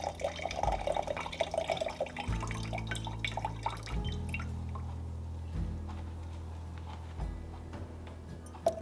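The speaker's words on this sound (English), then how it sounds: "The star of the show here being balsamic vinegar. We're going to add 1/2 cup to this jar." Balsamic vinegar pours into a jar with close, gurgling glugs whose pitch steps upward in a few distinct bursts, over faint background clatter.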